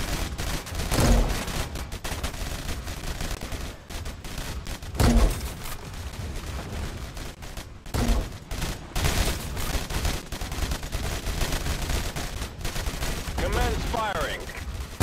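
Gunfire bombardment rattles through a robot war battle in a video game, with repeated bursts and heavy shots over a dense, continuous battle noise and occasional voice lines.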